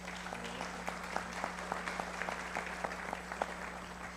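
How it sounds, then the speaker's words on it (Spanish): Applause from a modest audience at a cybercrime and cybersecurity panel, a thin run of separate claps over a steady electrical hum, fairly faint and distant. "Les pido por favor le brindemos un caluroso aplauso."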